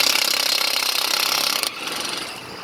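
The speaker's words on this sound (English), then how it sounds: "We'll see if this impact will get it off." A Ryobi cordless impact wrench with a 21mm socket hammers on a tight lug nut of a Ford F150, a loud rapid rattling burst that drops off sharply and winds down after about two seconds.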